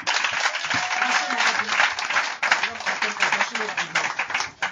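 A church congregation claps and cheers loudly, praising Jesus with a dense, steady roar of applause and voices across the whole stretch, close and continuous.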